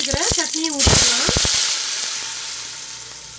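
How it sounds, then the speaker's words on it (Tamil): Ground onion-tomato chutney hits hot oil tempered with mustard seeds, urad dal and curry leaves, bursting into a loud hissing sizzle that slowly fades, after someone speaks briefly in Tamil. "அரைச்சி வச்சிருக்கிற சட்னியை ஊற்றிக்கலாம்."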